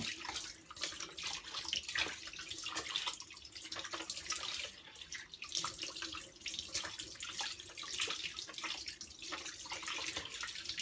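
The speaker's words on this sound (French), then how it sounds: "On rince le blanc." Tap water runs steadily over a cleaned squid tube being rinsed in a sink, a continuous hissing splash with small shifts in the flow as the body is turned under the stream.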